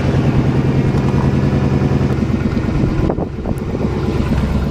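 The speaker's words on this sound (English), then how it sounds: "what kind of YouTuber would I be if I didn't include a cold start" Car cold-starting with an exhaust leak, idling rough and loud with a lumpy, pulsing rhythm and ticking clatter, the revs dipping partway through before settling again.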